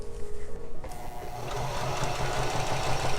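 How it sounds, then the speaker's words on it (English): Sewing machine stitching tucks on a blouse, starting up after a brief faint whir and then running in a steady, moderate-speed close hum. "I'm not going too fast because I'm new to sewing."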